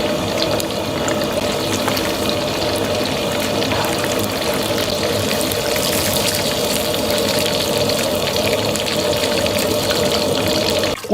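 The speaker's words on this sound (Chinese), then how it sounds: "锅中加水" Water runs steadily into a cooking pot for several seconds, a continuous close gushing pour with no voices, ending with a brief knock.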